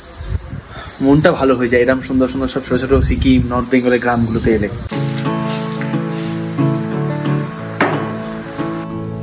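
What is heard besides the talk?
crickets chirping in a Sikkim village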